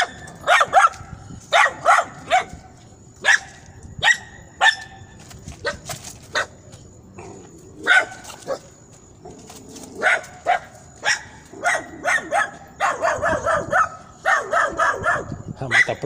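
A dog barks repeatedly in sharp, loud bursts at a steady rhythm, close by, with a voice talking in the background.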